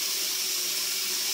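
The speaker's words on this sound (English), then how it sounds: "when I rinse my face cloth," Water runs steadily from a sink tap while a face cloth is rinsed beneath it, giving a loud, even hiss and splash that holds unchanged throughout, no voices.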